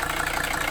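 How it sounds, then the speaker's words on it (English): A Mercedes 300SD diesel engine idles with an even, low rattling chug, close and continuous throughout, no voices. "Car is still running. Seems like the idle has stabilized just a little."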